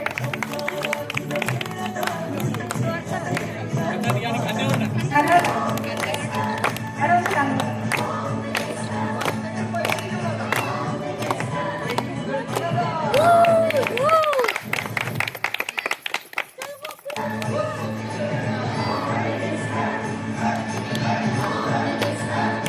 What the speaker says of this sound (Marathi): त्याला जोरदार टाळ्या द्या.